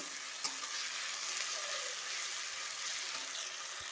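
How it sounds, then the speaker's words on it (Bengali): Garlic paste sizzles and crackles steadily in a hot pan, a dense, even frying hiss with an occasional stir. "রসুনটাও ভালো করে ভাজা ভাজা করে নেব।"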